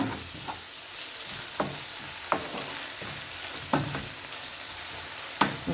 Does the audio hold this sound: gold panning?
no